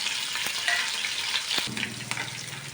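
Green chillies hitting hot oil with peeled, chopped garlic in a pan while cooking amaranth greens, giving a steady close sizzle and crackle with a few stirring knocks and no talk.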